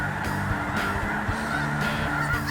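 Snow geese honking in a dense, continuous chorus from a large spring flock, overlapping calls blending into a steady clamor with no talk over it.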